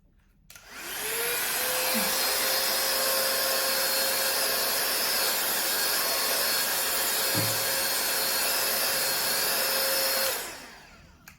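A Dyson hair dryer switches on, blows with a steady, loud whooshing hum and a thin whine for about ten seconds, then cuts off.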